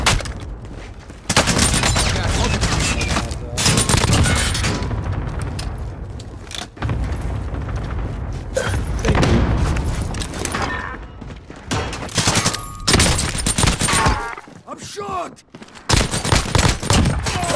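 Gunfire in the Call of Duty: Modern Warfare video game, with dense bursts of shots and booms running almost continuously, loud and close, broken by short gaps, with a voice talking over parts of it.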